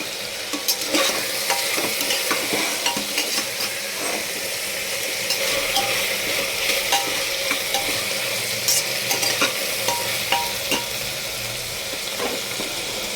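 Chicken stew frying in a pressure cooker, heard as a steady close sizzle with repeated scraping and clinking as the pieces are stirred throughout.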